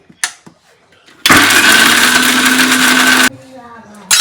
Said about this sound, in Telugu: కొబ్బరిని అయితే నేను మిక్స్ పట్టుకుంటున్నాను